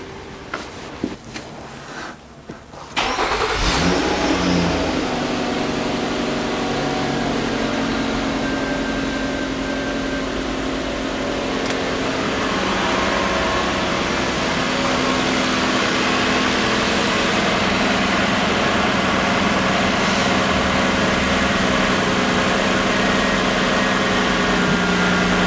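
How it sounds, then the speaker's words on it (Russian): A 2010 Nissan Murano Z51 is started after a CVT fluid and filter change. A quiet lead-in gives way to the starter cranking and the engine catching at about three seconds. It then settles into a steady, even idle that continues for the rest of the clip. "Ну и завожу автомобиль."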